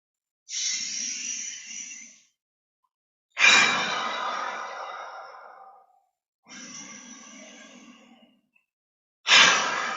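Breathy exhalations with a ha sound during qigong breathing practice, four long airy breaths separated by short pauses, close and clear with no talking.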